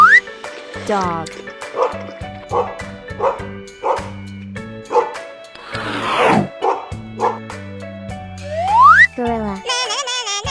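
A cartoon dog barks and yips repeatedly over a lively looping children's cartoon melody, with a splashy burst partway through and a sliding whistle-like effect near the end.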